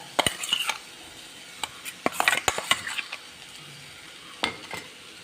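Onion sautéing with crushed ginger, garlic, green chilli and curry leaves, a soft sizzle broken by sharp clinks and scrapes of a spoon against the pan in irregular bursts.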